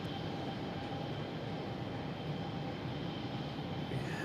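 A JetBlue Airbus A220 bound for JFK takes off from Boston Logan, a continuous broadband jet roar with a faint rising whine near the end, steady in level and free of talk.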